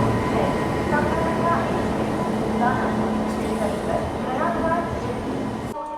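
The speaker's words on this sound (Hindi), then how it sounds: "फाइनली पूरे 2 घंटे 50 मिनट की देरी से हमारी 12281 भुवनेश्वर न्यू दिल्ली दुरंतो एक्सप्रेस आ चुकी है पंडित दीनदयाल उपाध्याय जंक्शन के प्लेटफॉर्म नंबर 7 पे" The 12281 Bhubaneswar–New Delhi Duronto Express arriving at a platform at Pandit Deen Dayal Upadhyaya Junction, a loud continuous rolling rumble of rail cars with rhythmic clatter, under someone talking and station background noise.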